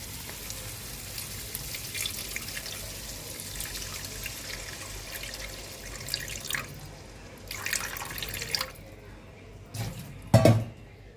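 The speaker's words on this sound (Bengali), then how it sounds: "তারপরে একটু সামান্য পরিমাণে জল দিয়ে দেবো।" Water is poured into a pan of katla fish kalia curry simmering with yogurt and oil, a quiet splashing and trickling that swells into louder bursts of pouring and sizzling near the end.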